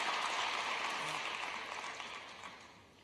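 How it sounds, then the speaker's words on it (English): A commencement audience applauds in a large hall, a faint, diffuse wash of distant clapping that slowly fades. "yes, you may applaud."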